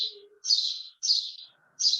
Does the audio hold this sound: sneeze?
no